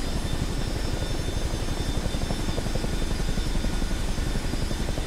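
A CH-47D Chinook helicopter taxies in Microsoft Flight Simulator 2024 with a steady, close rotor thump and engine drone that holds at an even level throughout.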